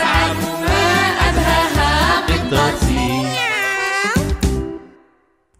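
A cat meows repeatedly in a children's song, the mewing calls woven into bouncy music with rhythmic beats before the sound cuts off near the end.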